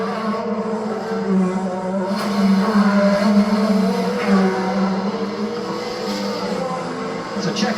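IndyCar race car lapping a Washington DC street circuit during practice, its engine droning steadily and fairly loud with shifting pitch, heard alongside a commentator's voice.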